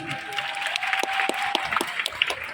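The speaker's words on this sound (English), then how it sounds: "yeah, you can clap" Light, scattered clapping from a small audience at a business presentation, a sparse handful of claps mixed with faint talk and a low background tone.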